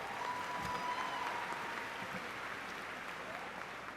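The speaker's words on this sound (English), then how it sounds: "you can put an applause right there." Graduation audience applauding for new degree and certificate holders, a faint, steady wash of many hands clapping in a large hall, sustained at low level throughout.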